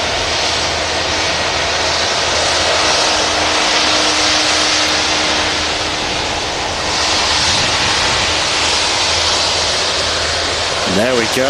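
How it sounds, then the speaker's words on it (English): A Jet2 Boeing 757 roars loudly and steadily at Manchester Airport, a broad sustained engine rush filling the whole stretch, with a voice speaking briefly near the end. "Jet2 757."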